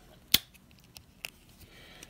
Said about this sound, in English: And these are the Wenger scissors.